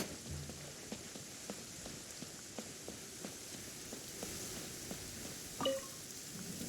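Steady rain falls in a Genshin Impact game scene, a continuous soft hiss of drops on surfaces with faint scattered patters throughout and a brief brighter clink near the end.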